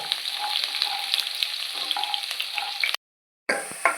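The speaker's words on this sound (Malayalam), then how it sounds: "അതിൻ്റെ കൂടെ വെളുത്തുള്ളി ചെറുതായിട്ട് അരിഞ്ഞതും ചേർക്കാം. അതൊന്ന് വഴറ്റുക." Finely chopped garlic sautés in a pan for a brinjal gravy, with a bright, continuous close sizzle and soft stirring scrapes. The sound cuts out briefly, then resumes.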